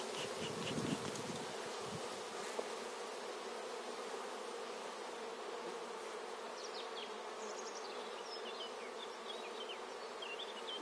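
Honey bees swarm around an opened hive during a transfer from a nucleus box to a full hive, a dense steady buzz close by with individual bees droning past, and no talking.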